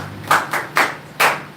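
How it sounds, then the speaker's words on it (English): Four separate claps or short bursts of clapping ring out in a church, spaced unevenly and fairly close, with a quiet gap between each. "give Deacon a round of applause."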